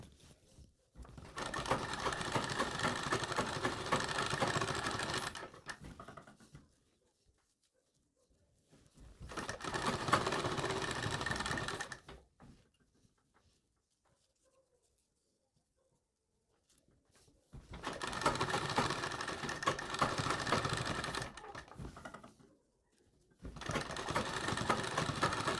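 Sewing machine stitching blouse back pieces together, running in four sustained bursts separated by quiet pauses, steady and fairly close with no voices.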